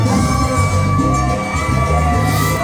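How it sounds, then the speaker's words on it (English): A wrestling crowd cheers in a loud, continuous roar of shouts and whoops through a live heavyweight championship event, with a steady tone running under the noise. "Crowd going wild."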